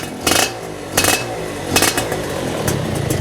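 A Suzuki Satria 120R two-stroke motorcycle with a racing exhaust sits close by, idling with a crackling, popping burble, punctuated by four sharp revs or bursts spaced about a second apart.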